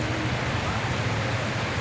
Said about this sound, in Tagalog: ano lakas ng ulan